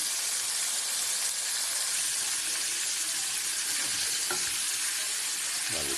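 Chicken pieces fry in hot oil, giving a loud, steady, dense sizzle that runs unbroken throughout, close up, with faint stirring scrapes near the end.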